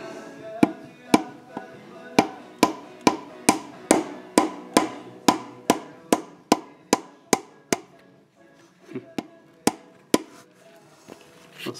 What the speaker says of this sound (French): il suffit de taper tout doucement au marteau